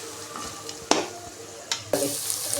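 Ginger-garlic masala with coriander and mint sautés in a pan for chicken biryani, a soft steady sizzle broken by three sharp stirring scrapes, close but fairly quiet.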